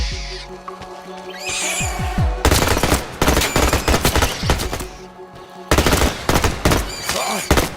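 Rapid bursts of automatic gunfire from a shooter video game set in a pollen-filled building basement, loud and close. The volleys come in sharp clusters separated by short pauses, with some ambient game noise between them.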